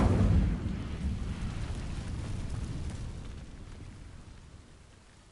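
A burst of Incendio fire spell in Hogwarts Legacy catches dry vines: a loud whooshing ignition up front, then a steady rushing, crackling roar that slowly fades.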